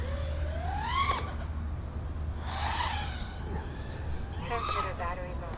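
FPV drone with MEPS Neon motors flying, motors whining and rising in pitch through several throttle punches over a constant droning background, with a voice briefly heard.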